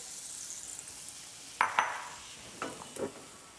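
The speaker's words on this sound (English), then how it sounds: "You can hear that sizzle." Soft sizzling hiss of peaches on a grill with a few sharp clinks and scrapes of a utensil, close and fairly quiet.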